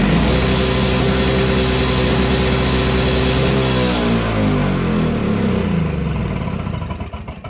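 A Troy-Bilt TB22 weed trimmer with a freshly replaced carburetor runs loud and close, its small two-stroke engine holding a steady buzzing drone before the pitch sweeps and wavers, then the noise tapers off at the end.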